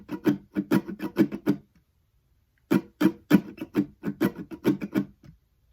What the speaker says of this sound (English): I'll first show you how to play it totally muted